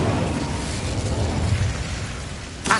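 A fiery burst from the Incendio spell in Hogwarts Legacy, a sustained loud rushing roar that ends in a sharp crackling flare.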